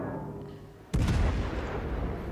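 A naval gun salvo from the German cruiser KMS Graf Spee in World of Warships Legends: one sudden heavy boom about a second in that decays into a long rumbling tail over quiet game ambience.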